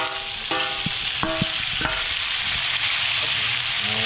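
Wild dove and tikling meat, already boiled tender, fries and sizzles in a pan with a steady hiss, broken by a few clinks and scrapes of stirring, with no talking.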